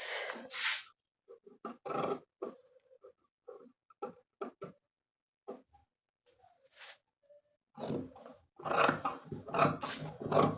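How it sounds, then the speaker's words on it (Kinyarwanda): Sharp scissors cut trouser fabric for wide-legged women's trousers with a series of close, crisp snips and crunches, some grouped in quick runs and separated by short pauses. "Ugomba kuba ufite umukasi utyaye nimba ushaka kudoda amatisi."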